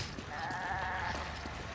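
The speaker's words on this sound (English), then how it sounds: "It's a goat." A goat bleats in the Resident Evil video game, a single drawn-out wavering cry over a quiet low background hum.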